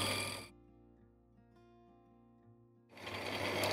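Lathe cutter machining a part for a classic Mini Coles starter motor, a loud harmonic whine that begins abruptly, drops to a quieter chattering hum for a couple of seconds, then surges back at full strength.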